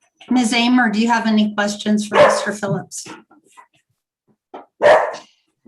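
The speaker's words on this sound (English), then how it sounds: "Sorry about that. That was my dog." A pet dog barks briefly in the background during an online public utility commission hearing, with a short burst after people speak.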